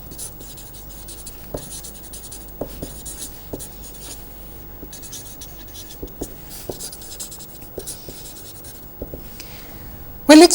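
A pen scratches and taps across paper in short, irregular strokes, close and fairly quiet, with small pauses between marks. A brief louder rustle comes at the very end.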